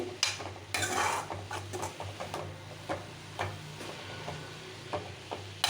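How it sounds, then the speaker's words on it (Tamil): Wedding-style cabbage poriyal is stirred in a pan over a low flame. Soft, intermittent scrapes and clinks of a spoon sound close by over a faint sizzle. "ஸ்டவ்வை சிம்மில் வச்சு உப்பு எல்லாம் ஒன்று போல் ஆகத்தண்டி கிண்டி விட்டுட்டு"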